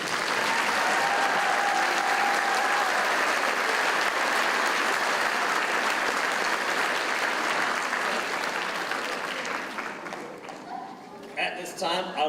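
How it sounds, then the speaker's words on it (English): An audience applauds the graduating 8th grade class at a school graduation ceremony, long dense clapping that gradually thins out, with voices starting up at the end. "Let's give the class of 2030 one big round of applause."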